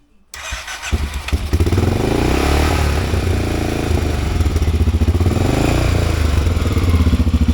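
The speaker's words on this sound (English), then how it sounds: "the motorcycle is running again" A motorcycle engine sputters to life after a brief click, then runs steadily with a loud, throbbing idle close by.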